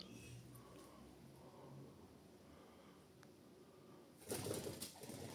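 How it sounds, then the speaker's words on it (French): Inside an abandoned hospital, a pigeon coos softly in a quiet, echoing space, then bursts into a short flurry of wing flaps near the end, with no talking. "Ah, un pigeon."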